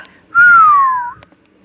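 In the snoring room from the animated film Cloudy with a Chance of Meatballs 2, a single loud, close whistle lasts under a second and glides gently downward in pitch, with near silence around it.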